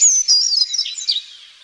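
A small bird sings a short, bright, high chirping phrase, close and clear with no other sounds.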